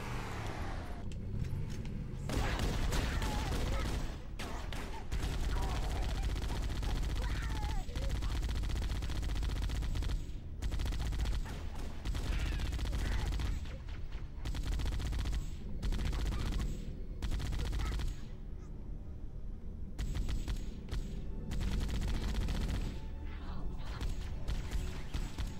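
Rapid gunfire from the Halo video game rattles on almost continuously, loud and dense bursts layered over a constant rumbling game soundscape with a few brief lulls.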